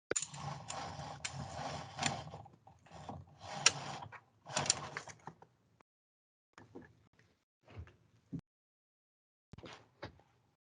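A tourniquet being tightened during a bleeding-control training course: a run of quiet ratcheting, strap-pulling bursts close by, followed by a few sparse clicks and rustles amid silence.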